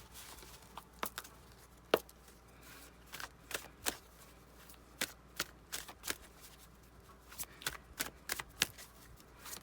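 Tarot oracle cards being shuffled by hand in a quiet room, a steady run of soft riffling flicks and taps, close and faint, with no talk.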